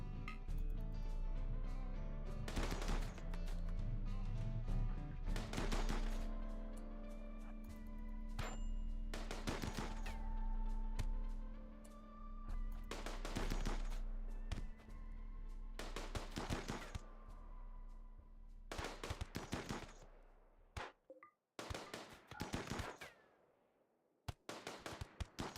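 Colonists in the video game RimWorld trade gunfire in a tribal run, with sharp shots and bursts repeating over a steady hum, then breaking off into near silence before a few last scattered cracks.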